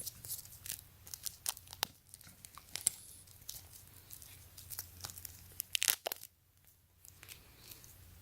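Plastic packaging sealing a gold stainless steel Samsung Galaxy smartwatch band being torn open, with close, irregular crinkling and ripping bursts that come and go, one sharper rip near the end.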